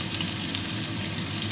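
Garlic and onions frying in a pan for sweet and sour tilapia, a steady close sizzle with no talk.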